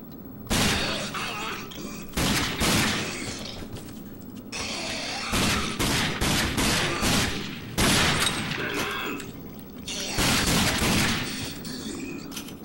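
Repeated bursts of gunfire from shooting in the video game Rage, loud clustered volleys separated by brief lulls, with a faint voice now and then.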